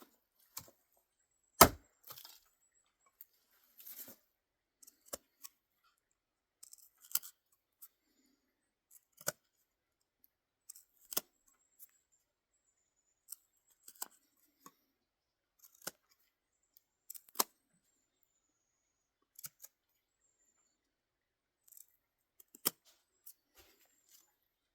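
A knife carves a V cut into a harder piece of wood, giving sparse short dry clicks and scrapes at irregular intervals, close up, with one sharper snap early on.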